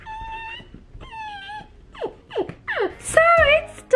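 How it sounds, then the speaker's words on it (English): A small female dog whimpers and whines up close, a few drawn-out high tones followed by quicker sliding whines that rise in pitch and loudness toward the end. "I have dogs because, you know, dogs are life"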